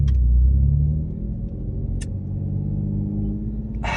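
Audi with a DSG gearbox creeping away from a stop, a low steady engine rumble and drivetrain hum, close by, with a few brief clicks and a short rattle near the end and no talking.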